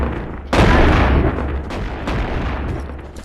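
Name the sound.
modded shotgun firing in video game Animal Company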